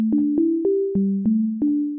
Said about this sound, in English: here in Ableton Live, I have a default wavetable device